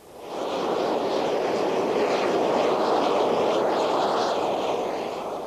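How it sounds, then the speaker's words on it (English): Fixed-wing military training aircraft taxiing, a steady loud engine roar that holds evenly throughout after a quick rise at the start, with no voices. "Trevor Lewis is taxiing towards the moment he's been dreading."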